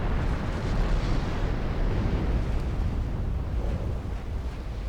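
Torpedoes strike the stern of a warship in Ultimate Admiral Dreadnoughts, setting off a heavy, continuous rumbling explosion with a roaring, sea-like wash that stays loud for the whole stretch, with no speech.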